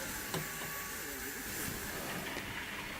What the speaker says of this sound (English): Passengers board a train at the station,